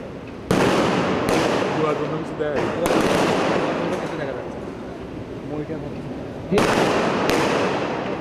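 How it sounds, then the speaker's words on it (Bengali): Blank firing and smoke screen blasts go off during a RAB (Rapid Action Battalion) assault drill: sharp loud reports near 0.5, 1.3, 2.9 and 6.6 seconds ring over a continuous crowd din, with talk running underneath. "এই ফায়ার এবং স্মোক স্ক্রিন কারো কোনো ক্ষতি করবে না"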